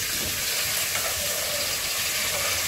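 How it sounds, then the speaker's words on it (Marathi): Tomatoes tipped into onions frying in a pan, a loud, steady close sizzle with hissing and faint scraping throughout, no speech. "कांदा यामध्ये जो आहे तो व्यवस्थित फ्राय झालेला आहे आणि आता मी टाकते टोमॅटो"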